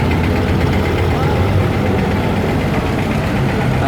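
An old Babiole tractor engine runs at a parade of vintage tractors, a steady low rumbling idle heard up close, with a voice talking over it.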